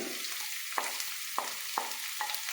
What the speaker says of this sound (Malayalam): ഒരുമിച്ചിട്ട് നന്നായിട്ട് ഇളക്കുന്നു നന്നായി ഇളക്കി